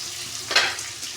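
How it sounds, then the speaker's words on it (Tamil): Chopped onion frying in a pan gives a soft continuous sizzle, with a single brief scraping stir rising midway, heard close with no talking. "ஆனியன் நல்லா கொஞ்சம் ஃப்ரை ஆகிட்டோம்"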